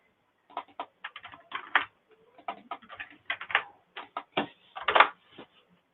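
Keys clatter on a computer keyboard, a close, fairly loud burst of irregular clicks and taps with short pauses between runs.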